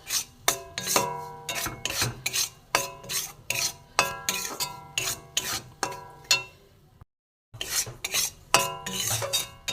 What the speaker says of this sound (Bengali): ময়দাটা আমি ভেজে নেব একটু ভালো করে। গ্যাস কমিয়ে ভাজতে হবে, কাঁচা গন্ধটা যাতে চলে যায়।